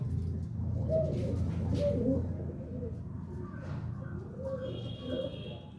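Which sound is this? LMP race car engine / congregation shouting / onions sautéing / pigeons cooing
pigeons cooing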